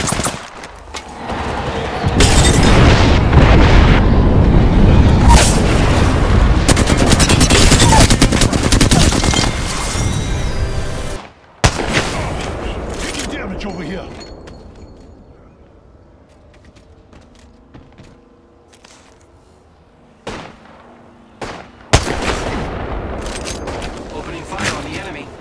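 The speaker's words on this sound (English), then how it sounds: "Signaling an airstrike." Gibraltar's airstrike bombardment in Apex Legends, a long loud roar of overlapping explosions and heavy gunfire that cuts off abruptly, followed by quieter mechanical clatter and a few scattered sharp bursts, with a voice speaking over the action.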